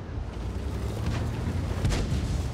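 Heavy booming rumble of an SU-85 tank gun firing an incendiary shell in World of Tanks, a deep sustained roar with a swell near the end, loud and close, no speech.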